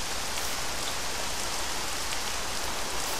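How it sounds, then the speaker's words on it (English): Steady, loud rain from the TerraFirmaCraft Minecraft mod hisses as an unbroken wash of dense droplets, filling the whole stretch with no other sounds. "the rain sounds are hundreds of times more loud than anything else"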